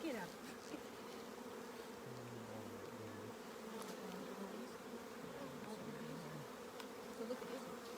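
Honey bees buzzing steadily during a hive inspection, a faint, even drone of many insects with a low hum running throughout.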